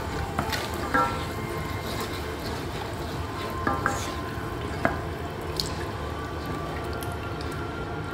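Cauliflower stirred in thickened Manchurian sauce in a hot pan, a low steady bubbling sizzle broken by occasional soft clicks and scrapes from a spoon.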